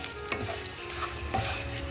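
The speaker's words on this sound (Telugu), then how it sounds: "ఇప్పుడు ఇందులో మెంతులు కూడా వేసేసుకోవాలి. తర్వాత జీలకర్ర కూడా వేసుకోవాలి. ఇవన్నీ బాగా వేయించుకోవాలి." Fenugreek and cumin seeds fry in a pan with a close, crackling sizzle and a few stirring scrapes over two seconds.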